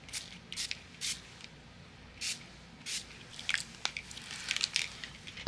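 Simon Hurley solar shimmer spray hisses out of the can in several short, soft bursts at a fairly regular pace, quiet and close, with faint handling clicks between the sprays and no talking.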